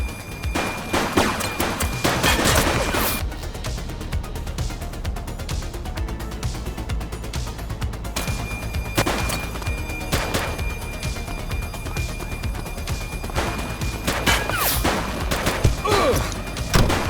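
A suspect opens fire in the police game The Precinct: sustained gunfire with bursts of loud, close shots and heavy impacts repeating over several seconds, dense and chaotic throughout.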